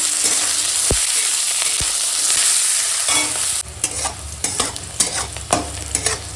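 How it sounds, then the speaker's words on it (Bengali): Chopped onion and green chillies frying together in hot oil give a steady, loud sizzle that drops slightly partway through, followed by sharp scraping stirs and clacks of a spoon against the pan. "পেঁয়াজ কাঁচা লঙ্কা চিড়ে রেখেছি আর দিয়ে দিলাম কাঁচা লঙ্কা চিড়া আর একসঙ্গে ভেজে নেব"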